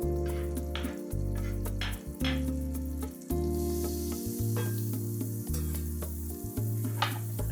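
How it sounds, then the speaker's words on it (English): Chopped onion and garlic sizzle steadily in butter in a large skillet over medium heat, close and constant, with occasional stirring scrapes and clicks over the frying, and no talking. "Add the chopped onion and garlic into the skillet and cook, stirring occasionally until softened"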